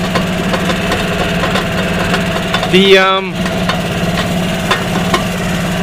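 A golf cart engine runs with a steady mid-pitched hum through a ride among autumn trees, rising briefly to a louder warbling note midway, with people talking over it.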